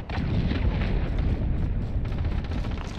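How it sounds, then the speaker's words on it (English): Cruise missile strike in a multiplayer shooter game, a heavy rumbling explosion with sustained low roar and debris crackle lasting the whole moment, loud and close. "Allied cruise missile on the way."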